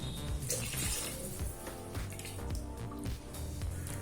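A cup of water is poured into a pressure cooker holding an egg biryani base, giving a close, steady splashing gush that lasts a few seconds.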